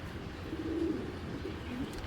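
A domestic pigeon, a high-quality female breeding bird, gives soft low cooing that rises and falls faintly over a steady background hum, with a couple of brief murmured coos and no speech.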